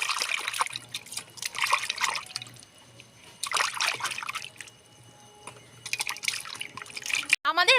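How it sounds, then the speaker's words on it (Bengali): Katla fish being rinsed in water, with splashing and trickling in bursts separated by quiet pauses, close by, a louder clatter at the very end. "মাছটা আমি ভালো করে ধুয়ে নেব।"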